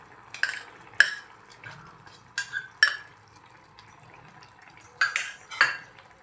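A spoon scrapes and knocks against a pot while onion-coconut paste is stirred into Malvani chicken masala, several distinct metallic clacks in an irregular rhythm over a quiet background.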